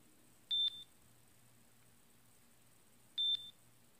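Two short electronic beep notification tones from a Samsung Gear S3 Frontier smartwatch, single high tones spaced a few seconds apart, clear and close against faint background hum.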